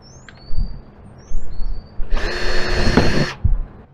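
A power drill drives a screw into an RV slide topper on the roof, revving briefly a few times and then whining steadily for about a second, close and loud.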